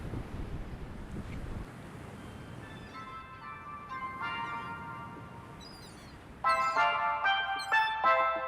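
Wind buffets the microphone on a warm Pacific beach in Costa Rica, then gives way to the steady wash of surf, with bright tonal sounds rising above the waves toward the end.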